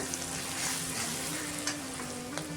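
Chicken skin sizzles and crackles in a pan with ginger-garlic paste, a soft, steady fry heard close up with no talking.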